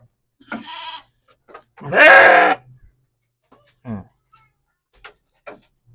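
Sheep being fed concentrate bleat loudly at close range, one long strained cry standing out among shorter bleats and snuffles, with a little soft voice in between.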